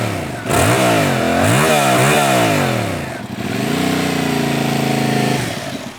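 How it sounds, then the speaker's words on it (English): Yamaha MT-07 motorcycle ridden on a bumpy country road, its engine revving up and down through rising and falling pitch sweeps, loud and close, with a brief drop near the middle before steady acceleration resumes. "I'm going to ride the same country road 3 times on these bikes for a fair comparison"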